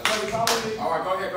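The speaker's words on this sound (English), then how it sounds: "You can hear me clap once." Sharp hand claps in a quiet conference room at a ballroom community gathering. Two quick, crisp smacks land close together near the start, followed by a faint voice and room tone.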